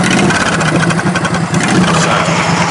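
A lowered-pulley MTD race mower's small engine runs loud and close at a steady, throbbing idle, with a brief spoken word near the start.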